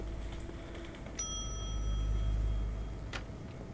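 A single front desk bell rings once in The Wolf Among Us, a clean bright ding that rings out and fades slowly over a quiet, low room hum.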